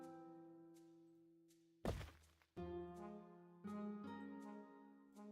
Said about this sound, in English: We'll activate the bolt thrower instead, which is going to turn around and fire at the